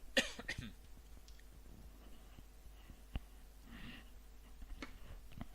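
A single sharp cough comes close and loud at the start. A few quieter breaths and small clicks follow in an otherwise quiet room.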